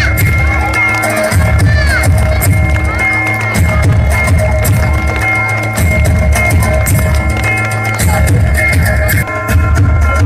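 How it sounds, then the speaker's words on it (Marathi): A crowd at the Landscape Hills Garba 2025 celebration cheers and claps loudly over continuous music, with children's shouts and whoops mixed into the dense, unbroken din. "एक मधला महिला आजीसाठी टाळ्या वाजून द्या"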